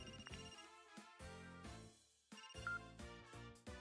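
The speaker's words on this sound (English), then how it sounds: "Phone's ringing." A phone ringtone in the video game Another Code Recollection plays as a bright, repeating electronic melody in several short bursts, loud and clear with no talking over it.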